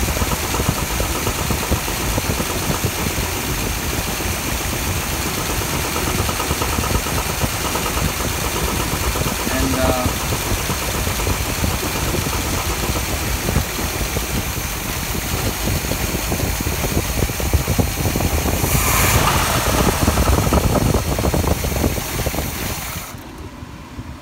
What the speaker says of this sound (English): Temperamental it is at low idle.